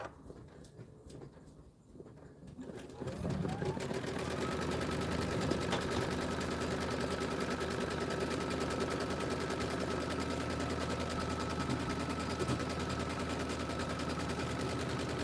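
A home embroidery machine stitches a batting placement line for a Kimberbell quilted tile project, starting after a quiet moment into a rapid, steady mechanical needle chatter with a continuous motor hum that runs evenly and close.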